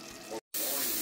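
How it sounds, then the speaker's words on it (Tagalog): A cup of water pours into a pan of beef menudo, a short splashing gush that breaks off briefly and then resumes as a steady, close, fairly quiet rush. "Saka natin lagyan ng 1 cup ng water."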